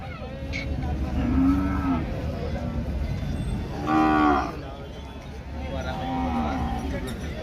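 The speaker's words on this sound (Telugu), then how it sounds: "ఎవరికైనా కావాలంటే పెద్ద పెద్ద ఆవులు ఉంటాయి, చిన్న సైజు ఆవులు కూడా ఉంటాయి." Cows moo loudly at a crowded Saturday cattle market in Pebbair, with several drawn-out calls over steady crowd murmur and nearby voices talking.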